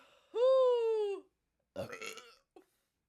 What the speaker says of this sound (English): I feel another burp.